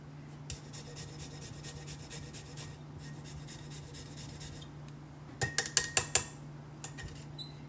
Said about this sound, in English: I'm gonna take the zester and I'm just going to